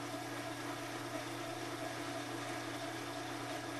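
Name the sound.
Whirlpool washing machine running spin cycle after motor coupling fix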